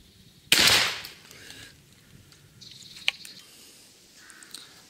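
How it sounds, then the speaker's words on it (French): A single loud gunshot from a shotgun firing a homemade thrush-hunting cartridge at a target 20 metres away, one sharp close blast followed by a quiet outdoor background with faint small sounds. "j'ai mis la cible à 20 mètres, et je vais tirer à 20 mètres"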